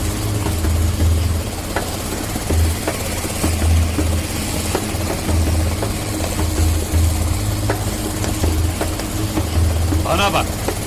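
A helicopter's engine and rotor drone steadily and loudly throughout, a low rhythmic thumping pulse with constant broadband whine, while people talk over it.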